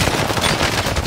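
Rapid automatic gunfire from a shooter video game, a steady dense rattle of shots filling the short stretch at close range with no talk over it.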